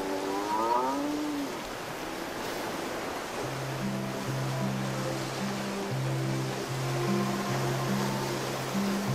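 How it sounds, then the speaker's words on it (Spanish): A cow lowing in a barn during hand milking, several drawn-out moos at the start followed by low, steady, rhythmic tones over a constant wash of background noise, fairly close. "Voy a ordeñarlo la vaca."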